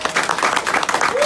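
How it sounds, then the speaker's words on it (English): A short burst of audience applause at a live motivational presentation, dense and close clapping from a crowd with no clear pauses. "let's give that a round of applause"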